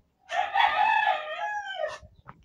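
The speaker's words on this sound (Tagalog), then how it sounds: "Ang aking mga manok ay nag-iiyakan na rin." A rooster crows once loudly and close, a drawn-out call of about two seconds, among a flock of chickens kept at a rural home, with a faint cluck after it.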